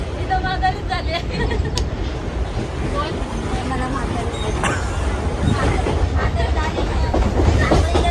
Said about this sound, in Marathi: ती पण ट्रेन आली, इकडे या.